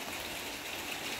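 Rain falling steadily outdoors at the start of the first rains, near a heavily fruiting star gooseberry tree; a continuous, even hiss of drops with no breaks, no voices over it.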